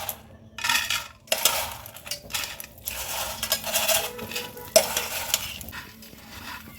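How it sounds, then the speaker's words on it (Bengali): Chushi pitha frying in ghee in a frying pan, bursts of bright sizzling crackle between rattling stirs, with a sharp metallic clink of a utensil against the pan partway through, close up and no speech. "এবার চুষিগুলো ঘিয়ের মধ্যে ভাজতে থাকবো"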